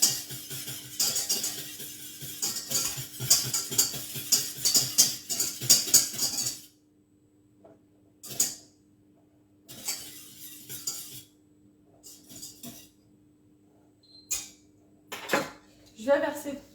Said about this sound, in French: On va transvaser dans un petit récipient.